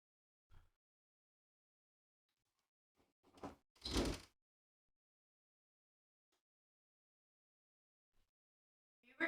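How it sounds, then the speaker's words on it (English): A studio door is kicked, producing a few isolated thuds and bangs spread across a quiet stretch, with the loudest pair of impacts in the middle and no talk. "Had my girlfriend kicking the studio door on me."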